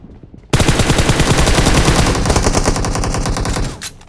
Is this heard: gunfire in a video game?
yes